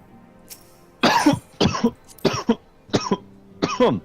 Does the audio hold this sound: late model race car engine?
no